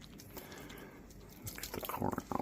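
Water dripping and splashing into a sink as canned corn is drained through a strainer in a home kitchen, close and fairly quiet at first, then a burst of louder irregular trickles and patters near the end.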